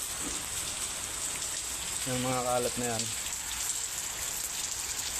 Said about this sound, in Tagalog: pag ganitong malakas ang ulan